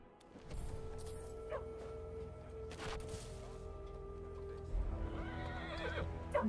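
A horse in the video game Diablo IV whinnies loudly and its hooves clip-clop, with a second whinny rising near the end amid faint game ambience.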